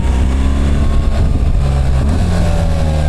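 A BMW adventure motorcycle ridden in manual shift mode, its engine droning loudly and steadily with rising and falling rev tones as it changes gear, no talk.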